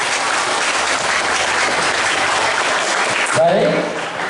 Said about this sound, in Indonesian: Tepuk tangan untuk MTS Negeri 10 yang kita cintai.